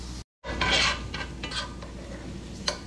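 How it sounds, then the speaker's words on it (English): Onions cook in a pan with close scraping and stirring, clinks of a utensil against the pan and a soft sizzle underneath, with no one speaking. "add the onions and cook the onions until they are translucent."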